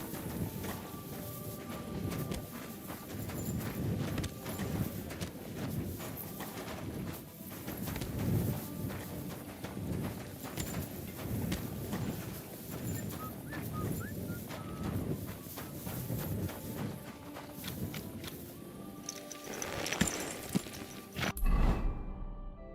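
Steady hoofbeats of a horse in the video game Kingdom Come: Deliverance II clip-clop at a walking pace, fairly quiet and continuous, with faint ambient background and no talking.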